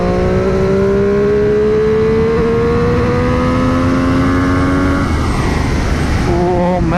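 A Triumph Street Triple RS revs hard while riding, its engine pitch rising steadily through a gear before a shift, loud and close under constant wind rush.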